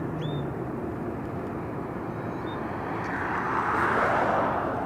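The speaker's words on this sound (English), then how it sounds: "Oh, we got a smaller plane coming up right here." A small plane at Las Vegas Harry Reid International Airport makes a broad, steady engine roar from a distance, swelling slightly louder toward the end as it gets underway, with no talking.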